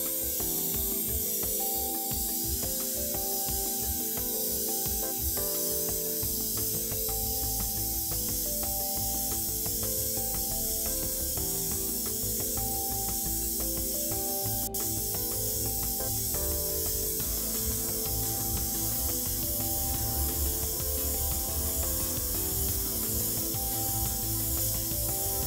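Steady airbrush spray of black paint hisses without a break for the whole stretch, with background music playing underneath.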